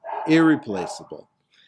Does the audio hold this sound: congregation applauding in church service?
no